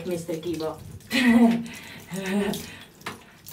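Warm tap water runs and splashes as a cat is rinsed during a bath, a steady close stream heard under a person speaking softly.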